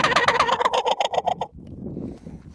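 Turkey gobble imitated on a turkey call, a loud rapid rattling gobble for about a second and a half, then a softer low rustling tail, close and with no talk.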